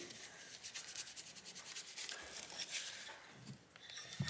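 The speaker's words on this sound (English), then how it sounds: "put some alcohol on there, give it a wipe" Cloth soaked in alcohol rubbing across the copper slug of an AMD RX480 graphics card during a thermal paste replacement, a steady close scrubbing and wiping texture that runs for several seconds without talk.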